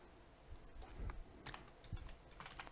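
Quiet keystrokes patter on a computer keyboard as a command is typed at a command prompt, an irregular run of soft clicks and taps close by.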